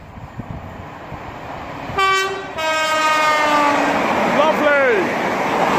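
A train runs non-stop through Hadley Wood station in the evening and sounds a long, loud multi-tone horn that bends in pitch as it passes. Its rumble builds underneath, and a second horn blast with a Doppler drop follows near the end.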